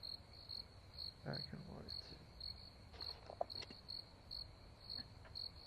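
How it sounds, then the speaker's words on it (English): Crickets chirp in a steady, regular pulse throughout, a high repeating trill at an outdoor pow wow setting, with people talking softly over it. "And the cricket sounds so nice."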